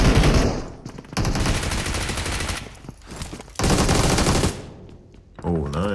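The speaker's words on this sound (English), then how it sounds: "They're firing." Gunfire in the mobile battle royale game BGMI (PUBG Mobile): long, dense bursts of rapid automatic fire, loud and close, broken by short pauses, with a brief electronic game sound near the end.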